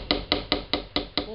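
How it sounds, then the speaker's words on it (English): Seven evenly spaced hammer blows ring out while Walmart furniture is being assembled, sharp and loud, each strike followed by a short decaying ring, with no talk over them. "Julie is hammering things"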